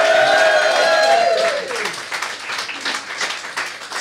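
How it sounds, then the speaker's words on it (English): A studio audience at a comedy TV show bursts into applause, loud dense clapping and cheering that starts over the end of a host's voice and holds steady to the end. "big round of applause for the food program"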